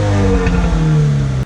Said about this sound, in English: this stock exhaust makes great sound, and when you're downshifting or even getting out of boost, letting the throttle out of boost, it has a notable popping sound